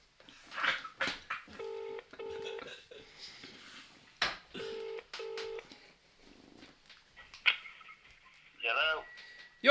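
Mobile phone keypad tones beep in quick pairs as a call is dialled to a brother during a casual podcast recording, the tones clear and close, with brief voices and room noise between them.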